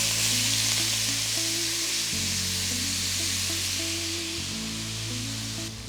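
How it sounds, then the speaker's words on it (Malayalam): Chopped onions sauté in a hot pan for dhaba-style paneer masala, giving a steady loud sizzle and frying hiss that runs throughout, with stirring clatter and a few scrapes and shifts partway through, and no talking. "സവാള ഇട്ട് നന്നായിട്ട് സോട്ട് ചെയ്തെടുക്കാം"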